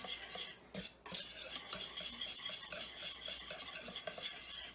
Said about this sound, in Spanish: ya estamos aquí batiendo lo que es nuestro pan y está quedando bastante bien y bien rápido